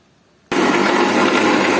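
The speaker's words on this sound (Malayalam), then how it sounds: "കുറച്ച് പാൽ ഒഴിച്ചിട്ട് നമുക്ക് അടിക്കാം" An electric blender starts abruptly and runs at full, steady whirring power, mixing a shamam (muskmelon) milkshake with vanilla ice cream and milk, loud and close with no talk.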